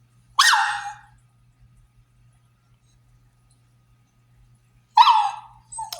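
A French bulldog barks twice, a sharp bark near the start and another about four seconds later, the second trailing into a brief whine, with quiet indoor hum between.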